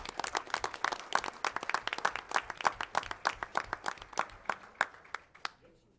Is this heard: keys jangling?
no